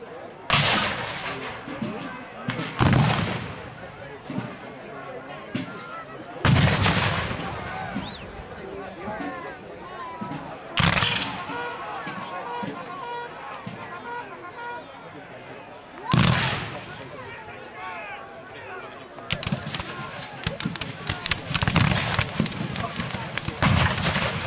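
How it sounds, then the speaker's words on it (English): Rifle volleys at a Civil War battle reenactment of Bethel Church, sharp pops and booming bursts recurring every few seconds, some distant, some nearer, with someone narrating over the outdoor crowd noise throughout. "you hear the pop of the rifles."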